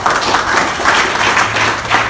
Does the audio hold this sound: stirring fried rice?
no